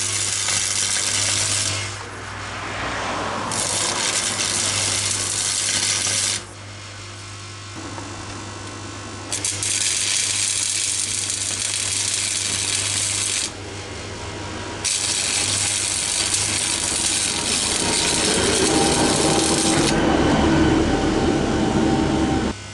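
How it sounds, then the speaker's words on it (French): Battery mount supports are welded onto a Nissan S14, a loud harsh buzzing crackle in several long bursts separated by brief pauses, close and steady, with no talk. "on a soudé les trois supports"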